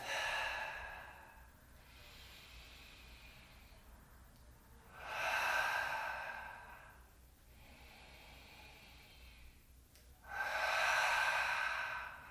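Slow, deep breaths during a yoga session, three long airy exhalations rising and fading in an even rhythm, close and soft in a quiet room with no talking.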